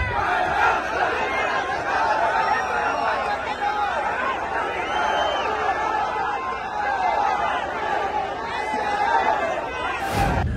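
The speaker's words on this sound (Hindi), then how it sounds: "कर्नाटक में प्रियंका गांधी के रोड शो में उमड़ा जनसैलाब" A huge, dense crowd at Priyanka Gandhi's road show in Karnataka roars and chants continuously, with loud overlapping shouts and cheers holding steady throughout.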